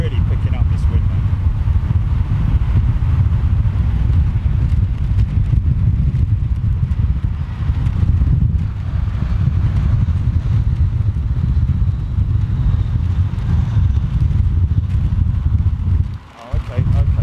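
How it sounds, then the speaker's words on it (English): Strong wind gusting outdoors at London Heathrow, heard as a loud, steady, low roaring rumble that buffets the microphone almost without a break and dips briefly near the end. "Wow, really picking up this wind, man."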